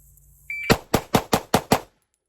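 Six quick, sharp 9mm pistol shots of 124-grain +P Gold Dot ammunition ring out in an even, rapid rhythm, loud and close, just after a short electronic beep.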